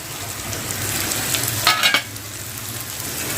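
Ivy gourd curry with raw mango and coriander is stirred in a hot pan, giving a steady sizzle with scraping spoon strokes and a brief louder clatter midway, close up.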